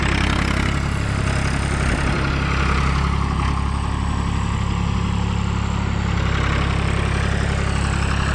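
Grade tractor engine running steadily while backfilling a custom house foundation in tight quarters, a loud continuous low rumble and drone that holds without break, no talk.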